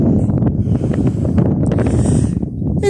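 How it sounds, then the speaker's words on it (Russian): Strong wind blows across a seaside mountain near the Swallow's Nest, rushing steadily and loudly into the microphone for a few seconds with gusty buffeting and no one speaking. "Ветер поднимается."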